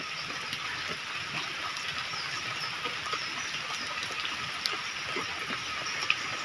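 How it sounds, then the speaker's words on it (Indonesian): Steady rain falls over a quiet rural village of stilt houses in Pandeglang, Banten, making a constant soft hiss with scattered faint drips and patter, even and fairly distant, with no voices. "benar-benar sepi ini lagi hujan, saya hujan-hujanan nih"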